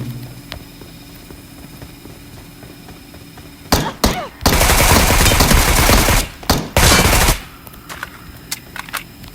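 Bursts of automatic gunfire in a battle royale video game, two loud sustained volleys with a few single shots around them, heard over a low background hum with no speech.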